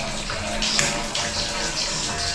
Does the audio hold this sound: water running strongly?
yes